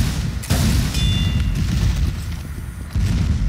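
Team Fortress 2 sniper rifle shot, a sharp booming crack with a heavy low rumble, followed by muffled game noise and a second thump near the end, with no talking.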